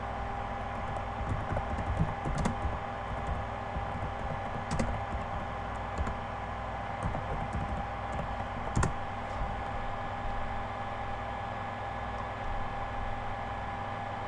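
Steady typing on a computer keyboard, with quick continuous keystrokes and a few louder taps over a low background hum, close to the microphone.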